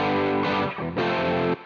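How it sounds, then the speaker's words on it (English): Electric guitar track with distortion mixed to the left, playing a few thick sustained distorted chords in quick succession, alone with no talk. "Here's the left electric guitar."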